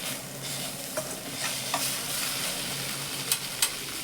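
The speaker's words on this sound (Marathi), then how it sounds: "आता हे आपण थोडंसं परतून घेऊया. त्याच्यानंतर आपण भाजून घेतलेली वांगी टाकून घेऊया." Roasted eggplant for baingan bharta being stirred into a spiced onion mixture in a hot pan, producing a steady sizzle and fry hiss with a few sharp spoon scrapes and taps, no talking.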